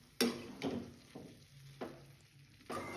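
Curd and masala mixture stirred in a pan, with a few separate scraping strokes and a light sizzle, quiet and close, spaced about half a second apart.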